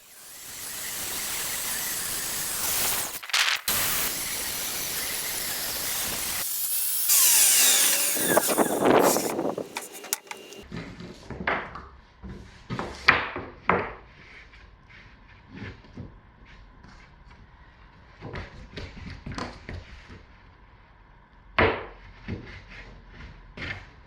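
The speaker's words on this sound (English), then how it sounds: "we have the table saw, so might as well use it" A table saw ripping laminate floor boards during a DIY floor installation in an old Japanese house: loud, sustained cutting noise in bursts, then a run of sharp knocks and clatter as boards are handled nearby.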